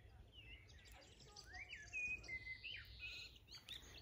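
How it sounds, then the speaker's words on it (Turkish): Birds chirping and tweeting along a nature walk near Ohrid, several short high calls and whistles scattered over quiet outdoor ambience, faint and fairly distant. "Kuş seslerini duyuyor musunuz?"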